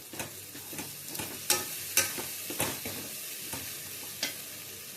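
Chili powder and salt are stirred in a frying pan, giving a soft, close sizzle broken by a dozen or so irregular scraping strokes.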